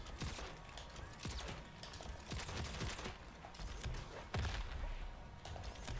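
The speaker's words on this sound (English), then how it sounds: "I mean, he has sector missiles." Robocop unleashing sector missiles in Mortal Kombat 11: a quiet, rapid barrage of overlapping blasts and thuds with sharp cracks, one heavier impact near the end, no voices.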